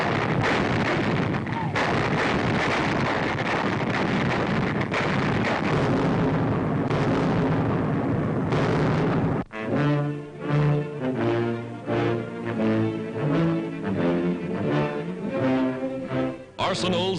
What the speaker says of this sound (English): Manning anti-aircraft batteries, they feed shells and fire them with clockwork precision.